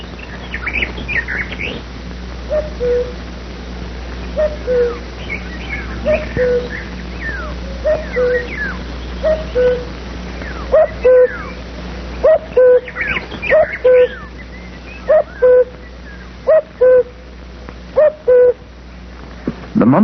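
Hungry woodpecker chicks in a tree-hole nest give repeated shrill calls, growing busier and louder into an insistent chorus of short squeaky notes over low background noise.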